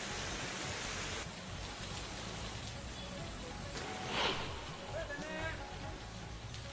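Light drizzle falling during a heavy monsoon spell, a soft uniform hiss of rain heard faintly with a brief splashing burst midway, no clear voices.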